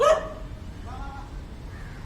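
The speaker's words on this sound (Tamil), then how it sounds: "நாய் குலைத்ததால் நின்றுவிட்டேன்" A single dog barks once, close and loud at the start on a walking path in Chennai, followed by faint fading yelps and whimpers over quiet street noise.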